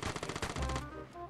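A fast burst of automatic gunfire hammers out in a Vigor shootout, loud and close. It cuts off abruptly partway through, leaving a low, fading rumble behind.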